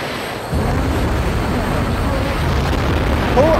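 A missile strikes a Harrier jet in the game Eagle One: Harrier Attack. A sudden loud blast swells into a sustained rumbling roar that stays up to the end.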